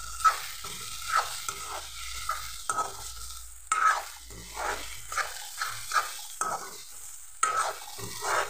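Ghee sizzles in a pan with spinach and egg bhujia as it is stirred, with intermittent scraping strokes over a soft frying hiss, close and moderately quiet, with no talking.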